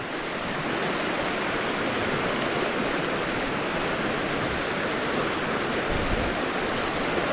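Steady, unbroken rushing of flowing water, like a nearby river stream, fills the whole stretch with no voices.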